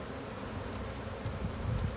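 Honey bees buzzing around an open Langstroth hive, a steady low drone of many insects that swells slightly near the end, close and unbroken, with no talking.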